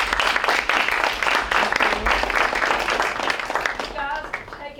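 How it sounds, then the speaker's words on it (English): A corporate event audience applauds at a Southwest Airlines program, a dense, loud wash of clapping that runs throughout and thins toward the end as voices start to come through. "let's give her a great round of applause"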